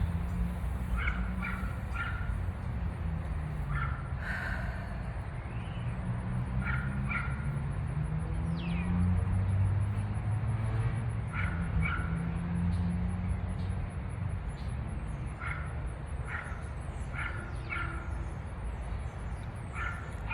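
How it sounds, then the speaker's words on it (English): Repeated short barks from a dog at some distance, coming in bursts over a constant background hum. "this dog is really still barking"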